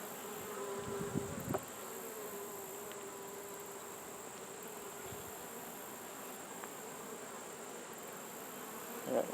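Honey bees buzzing around a nuc hive in an outdoor apiary, a steady, quiet, continuous hum with a few closer passes, and occasional handling noises.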